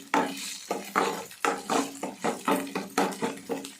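Ginger frying in a pan while being stirred, steady scraping strokes of a spatula about three per second, each with a sizzling hiss, close and fairly loud with no voices.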